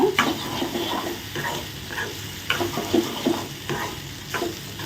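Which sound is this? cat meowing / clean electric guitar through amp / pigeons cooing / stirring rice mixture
stirring rice mixture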